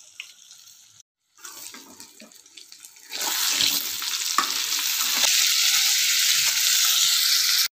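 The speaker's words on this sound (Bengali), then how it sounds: "ওদিকে পটল প্রায় ভাজা হয়ে এসছে" Pointed gourd (potol) frying in oil in a home kitchen, a steady hiss of sizzling that starts faint, breaks off briefly, then grows loud and constant, with a few clinks of stirring.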